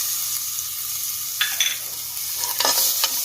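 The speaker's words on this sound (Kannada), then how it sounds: "ಅರಿಶಿನ ಪುಡಿ ಹಾಕ್ತಾ ಇದ್ದೀನಿ ಈಗ, ಮತ್ತು ಬೆಳ್ಳುಳ್ಳಿ, ಶುಂಠಿ, ಕರಿಬೇವು ಹಾಕ್ಕೊಂಡಿರುವಂಥ ಪೇಸ್ಟ್" Turmeric powder and a garlic, ginger and curry leaf paste fry in a pan for masala rice, with short bursts of sizzling and scraping stirs over a steady low hiss, no talking.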